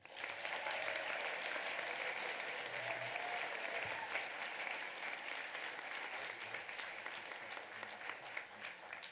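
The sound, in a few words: audience applause at a senior day award ceremony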